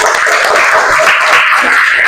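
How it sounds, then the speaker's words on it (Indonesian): A sixth-grade class applauds in a classroom, a dense, even patter of many hands clapping loudly and continuously with no voices. "Tepuk tangan untuk kalian saja."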